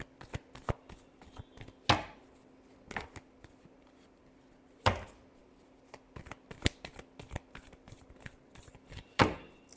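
Tarot cards are shuffled by hand in a quick run of crisp riffles and slaps, with a few sharper, louder snaps spaced through it. The sound is close and dry, with no talking over it.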